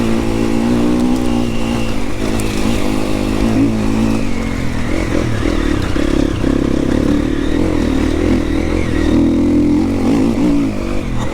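A new four-stroke enduro motorcycle engine, said to sound like a 450, revs loud and close for the whole stretch, its steady throaty drone rising and falling slightly while riding, with no talking.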